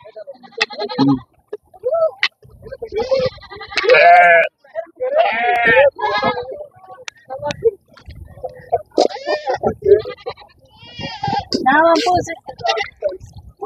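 Goats bleat repeatedly and loudly up close at a goat market, several animals calling in overlapping bursts with people talking among them.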